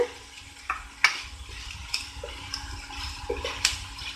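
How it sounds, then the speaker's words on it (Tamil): Vegetable masala sautéing in a pan for Iyengar bakery-style masala bread, with soft continuous sizzling and periodic scraping stirs of a spoon, several sharper clacks against the pan, close and moderately quiet. "இந்த மசாலாக்கு தேவையான அளவு நல்லா வதக்கி விடுங்க."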